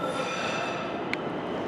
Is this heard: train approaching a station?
yes